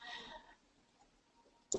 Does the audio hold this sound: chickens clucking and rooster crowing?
no